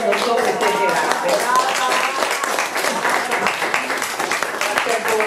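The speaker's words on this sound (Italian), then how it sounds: "Io invece vi chiedo un applauso particolare per Alessandra" An audience at an Italian evening stage event, Smurate 2014, claps and cheers in a dense, steady wash of hand claps and crowd noise that holds at a constant level for several seconds.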